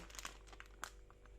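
Baking paper laid over gauze dressing gives off faint, close crinkles and rustles in a few short bursts over a steady low hum.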